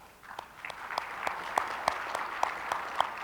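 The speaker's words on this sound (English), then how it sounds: "give them a round of applause" Sparse, fairly faint applause from a conference audience at an innovation summit, with a few distinct claps standing out over a soft background wash.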